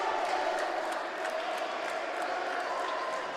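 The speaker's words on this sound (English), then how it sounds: "that brings the crowd to its feet" Crowd at a college men's basketball game, Lackawanna College against CCBC Dundalk, cheering loudly after a putback basket, a sustained roar of voices with scattered shouts throughout.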